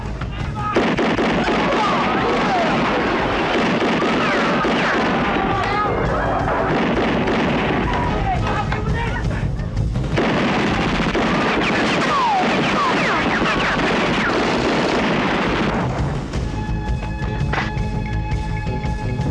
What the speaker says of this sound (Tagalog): Tatlong putok pa lang yan